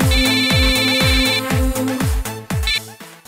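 Mobile phone ringtone for an incoming call, a loud repeating electronic melody with a steady beat that pulses on for several bars near the listener.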